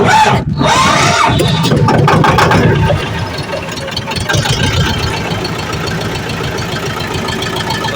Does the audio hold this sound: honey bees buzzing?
no